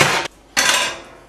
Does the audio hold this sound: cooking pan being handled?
yes